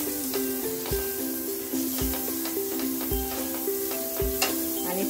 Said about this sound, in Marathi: आणि त्यावर हे मॅरिनेट केलेले पनीर शेकून घेऊया